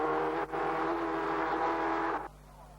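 A pack of Ford Sierra production race cars sweeps through a corner at a racing circuit, a loud sustained engine roar that dips briefly, then holds steady before dropping away to a fainter drone.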